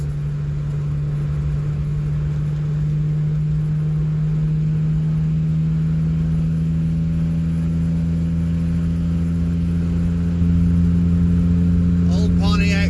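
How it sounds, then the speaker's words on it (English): GTO and a 1967 car running fast down a stretch at a Talladega race, heard as a steady, droning engine hum with a sustained tone and a brief rise near the end. "They're a hauling ass down through here."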